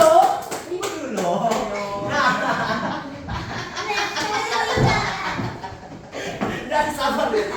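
Primary school classroom where students clap their hands, scattered claps over chuckles, laughter and lively children's chatter throughout.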